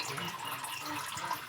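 Water pouring steadily into a catfish fry tank in a hatchery, its flow acting as the aerator, a soft continuous splashing hiss with no pauses.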